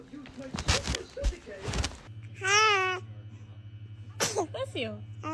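A newborn baby makes a brief, sharp sneeze close by, with adult voices talking before it and a soft baby vocalization after.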